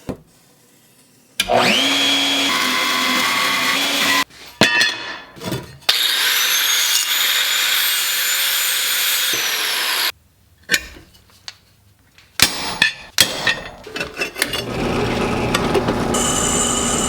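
Power tool cutting down overly long screws on a homemade motorcycle tail light and license plate light assembly, several loud sustained bursts of whining cutting separated by short pauses, close and without talk.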